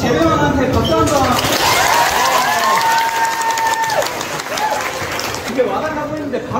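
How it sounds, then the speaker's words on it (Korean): A workshop audience applauds for the staff, loud crowd clapping and cheering with a voice speaking over it and rising vocal calls weaving through the noise. "재배원한테 박수 한 번."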